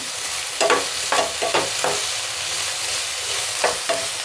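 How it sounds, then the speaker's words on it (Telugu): Ginger garlic paste fries in a pan for vegetable-stuffed kajjikayalu, a steady close sizzle broken by several distinct spatula scrapes and stirring strokes, the scrapes clustered early with two more near the end. "ఒక ఐదు నిమిషాలు ఫ్రై చేసుకుంటే చాలు ఇది చూడండి అల్లం వెల్లుల్లి పేస్ట్ ఒకసారి మళ్ళీ కలుపుకున్నాము"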